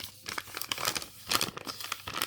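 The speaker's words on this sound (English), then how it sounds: "I love the crinkling and the warping" Journal paper crinkles and warps in rapid, irregular crackling bursts, close and quiet with nothing else behind it.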